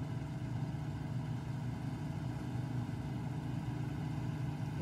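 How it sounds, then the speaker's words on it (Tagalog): A rice harvester and thresher combine machine runs with a steady, droning engine rumble and mechanical whir that stays even and continuous throughout, with no pauses. "Ito po yung harvester machine, tawag sa English."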